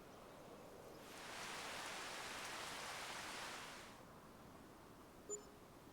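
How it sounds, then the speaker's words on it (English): Rain in the farming video game Farming Simulator 25, a soft, even hiss of rainfall that swells in for a few seconds and then fades away, faint and steady. "Raining"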